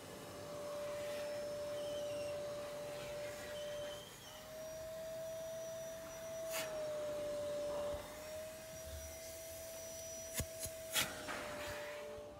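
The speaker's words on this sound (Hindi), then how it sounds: "इस गाड़ी को वैक्यूम लगेगा, वैक्यूम की तार वो लग रही है" A vacuum cleaner works inside a Mini Pajero car interior, a steady whining drone that dips and rises in pitch as the nozzle is moved, with a few scraping bumps and knocks near the end.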